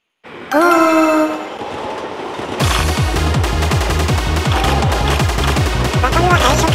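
A train horn blares, then electric trains from a racing video game, an IR Ishikawa 521 series against a Tokyu 300 series, rumble along with a loud, rapid, regular clickety-clack of wheels over rail joints.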